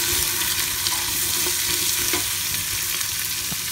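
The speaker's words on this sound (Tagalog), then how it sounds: "Alright, we can now add our celery, carrots. Stir lang po natin ng kaunti." Celery and carrots being stirred into a pot of red wine oxtail stew, a soft continuous sizzle with scraping stir strokes, close and moderately quiet.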